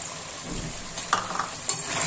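Chopped square-cut onions hitting hot oil in a chicken karahi, a steady close sizzle with a few sharp clinks and stirring scrapes, no voices.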